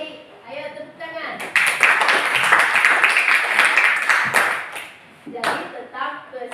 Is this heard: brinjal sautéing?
no